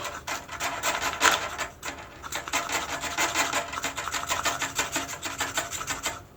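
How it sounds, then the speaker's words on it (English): A sharp striker scraped repeatedly along a fatwood fire stick to raise shavings, giving a rapid, steady rasping rhythm of close, dry strokes with a brief pause partway through. "If you have a striker like this and it's sharp enough, I'm going to show you. You could actually get shavings from it."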